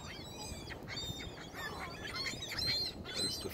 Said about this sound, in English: There's the seagulls making lots of seagull noises.